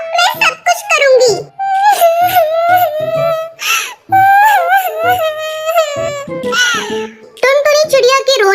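A cartoon sparrow, Tuntuni, voiced by a person sobbing and wailing in high, quavering whimpers. The cries come in close, loud bursts with short breaths between them.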